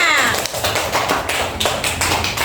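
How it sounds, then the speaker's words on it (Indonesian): Schoolchildren in a classroom clapping for a group, a close, busy patter of many hands with uneven sharp slaps running throughout. "Tepuk tangan untuk kelompok 3"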